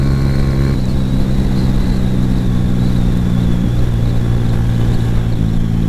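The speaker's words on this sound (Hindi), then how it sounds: "अभी बाइक जो है वो 110 तक पहुंच रहा है।" Suzuki GS 150 motorcycle at speed on a countryside road, its engine droning loud and steady with a sustained hum and constant wind rush, slight pitch shifts throughout.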